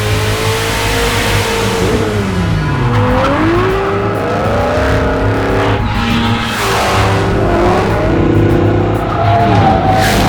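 Dodge Durango fitted with a Hellephant crate engine accelerating hard, a loud continuous engine roar rising and falling through gear changes with tire squeal throughout, close and alone.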